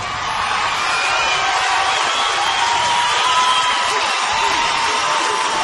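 A large audience cheers and applauds after a speech, a steady, loud roar of crowd noise with whoops and shouting voices blended into a continuous wash.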